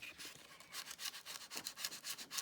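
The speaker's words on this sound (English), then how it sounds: "This is just a little metal scraper." A small metal scraper rasps across a watercolour painting to lift salt off the paper, giving quick rhythmic scratching strokes, close and faint.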